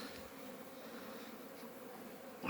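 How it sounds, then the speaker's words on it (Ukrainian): Honeybees circle around an apiary on orientation flights, young bees making a soft, continuous buzzing hum that stays faint and steady throughout. "так вони красиво собі облітуються. Молода бджола йде на обліт, стара собі на прогулку."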